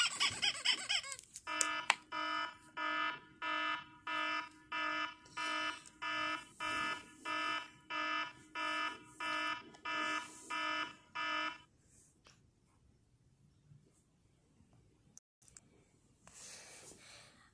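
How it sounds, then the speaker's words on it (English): An alarm clock rings in a long series of regular repeating electronic beep bursts for about ten seconds, then stops, leaving quiet room noise. "This alarm clock will just keep going off and off."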